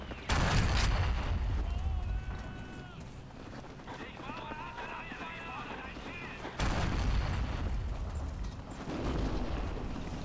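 Artillery fire in the World War II game Forgotten Hope 2 during multiplayer fighting at the Meuse River: heavy booming blasts at the start and again midway, with rumbling battle noise and distant gunfire between them and voices talking.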